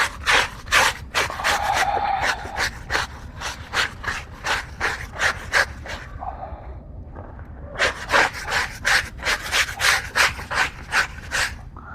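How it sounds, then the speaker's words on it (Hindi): A brush scrubs soaped cloth in quick, rhythmic back-and-forth strokes, a rasping scrape repeating in bursts with a brief pause midway before the strokes resume. "अब हमने इसके ऊपर ब्रश भी मार दिया अच्छी तरीके से।"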